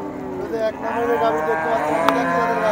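Friesian dairy cow at a livestock market lowing in a long, loud, drawn-out moo close by, with faint background noise and no clear speech.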